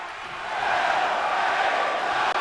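A wrestling arena crowd in WWE 2K24 roars for LA Knight, a sustained dense wall of cheering that swells early, then holds steady and loud with a brief dip near the end.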